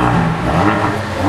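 A brand-new Haval H6 GT with its factory sport exhaust, still in the showroom with its plastic wrap on, revs hard. A loud, close engine drone holds steady through the short stretch.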